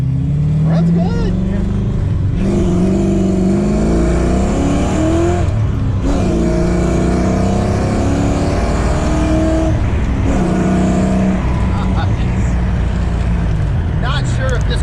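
A car engine with a Trick Flow top end kit roars loudly as it accelerates through several gears, pitch climbing then dropping at each shift, with voices talking underneath.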